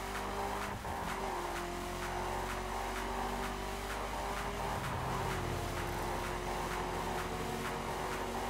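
Car engine held at full throttle in the racing game The Crew, a loud steady drone with a sustained engine tone throughout and no talk.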